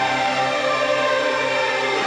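A sampler pad built from a tuned Foley sample and drenched in reverb holds a dense, sustained wash of tone, loud and steady for a couple of seconds with no voices.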